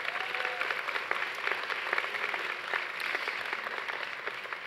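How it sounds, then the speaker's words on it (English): An audience at a 2019 graduation ceremony applauds a bagpiper, dense sustained clapping from a large crowd at a steady level without talk. "appropriately applauded"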